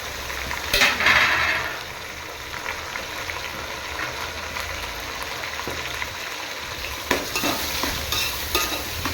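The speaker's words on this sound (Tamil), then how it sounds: "கலக்கி விட்டுடலாம்." Chopped tomatoes and mint sizzle in a hot pan for a mixed millet rice dish while a spoon stirs them, giving steady frying crackle with a few louder scraping strokes near the start and end.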